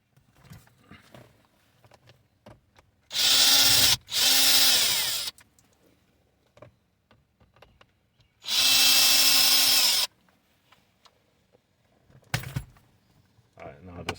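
Power drill or driver backing out two Phillips head screws from the lower trim of a 7th gen Nissan Maxima, heard as two loud whirring bursts with a brief stop between, amid soft handling clicks.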